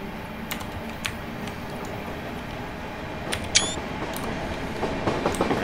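A Class 456 electric train runs in Train Simulator 2019, a steady low rumble with faint rhythmic clicks and a brief squeal midway, continuous and moderately loud throughout.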